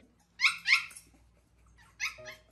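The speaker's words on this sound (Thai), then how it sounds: "จะเห่าจะหอนอะไรเกรงใจไอ้วัวมั่ง" A dog barks at night in a few sharp, loud bursts, two close together, a pause, then two more, with a faint whimpering tone at the end and no talk.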